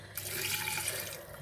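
Tap water poured into a cooking pot while preparing Moroccan couscous, a steady, close rushing splash with no pauses from start to finish.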